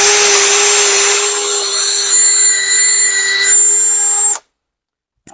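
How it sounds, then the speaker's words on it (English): Power drill boring pilot holes into a Harbor Freight 30 inch sheet metal brake, a steady high-pitched whine with faint shifts in pitch, running alone for about four seconds before stopping dead. "I'm going to go ahead and drill those other pilot holes."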